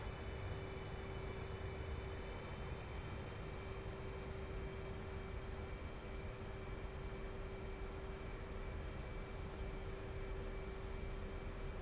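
F/A-18 Hornet jet in a flight simulator game on its takeoff roll, a steady loud roar of engine noise with a constant whine, unchanging and without voices.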